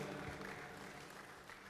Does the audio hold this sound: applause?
yes